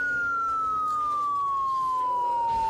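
A vehicle siren in the zombie survival video game Project Zomboid wails steadily as a single sustained tone that slowly falls in pitch, over a low rumbling background.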